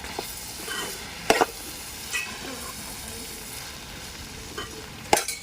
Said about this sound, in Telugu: ఈ పేస్ట్ అంతా ఇందు ఇందులో వేసుకొని ఇట్లా కలుపుకోవాలి